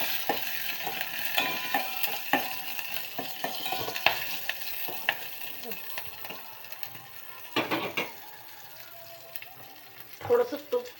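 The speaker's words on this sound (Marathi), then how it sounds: "मिरचीची फोडणी." Cumin, mustard seeds, curry leaves and chili crackle in hot oil as a tempering for plain khichdi rice: close, uneven sizzling with sharp spatters and occasional stirring scrapes.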